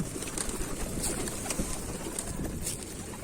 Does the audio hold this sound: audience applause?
no